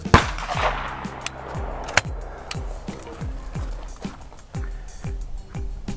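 A shotgun fires at a clay pigeon during trap shooting practice: one sharp, loud report right at the start, then another crack about two seconds later, over a run of dull rhythmic knocks.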